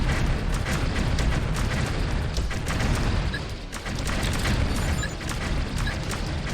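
A vehicle explodes in the real-time strategy game Outpost 2, a loud, continuous roaring blast with crackling bursts that fills the clip and dips only briefly midway.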